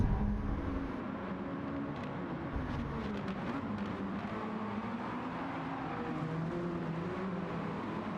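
GTO race cars at Laguna Seca approach a cambered uphill left-hand corner. A steady engine drone with wavering pitch holds throughout, fairly distant and moderately quiet, with no voices.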